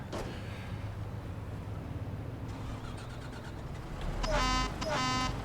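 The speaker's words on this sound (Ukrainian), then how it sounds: "Ого, який сигнал." A police bus in the video game Mafia 2 sounds its horn with two loud, harsh blasts near the end, over a steady engine rumble.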